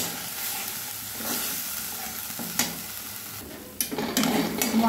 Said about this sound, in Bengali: এবারে এগুলো আমি ভালোভাবে কষে নেব।